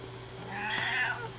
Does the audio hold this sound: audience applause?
no